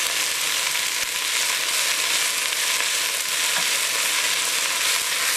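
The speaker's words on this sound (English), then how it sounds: "So we're going to let these fry up for just a few minutes." Jew's mallow (mulukhiya) leaves fry over medium heat in a pan, making a loud, steady, dense sizzle that stays even and unbroken throughout.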